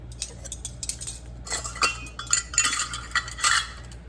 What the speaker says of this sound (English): And I'm gonna get a clean spoon.